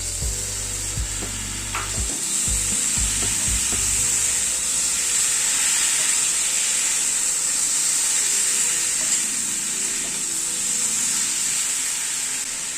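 Onion, capsicum and tomato fry in a hot pan with a steady, even sizzle and hiss, with a few low stirring knocks in the first seconds, no talk.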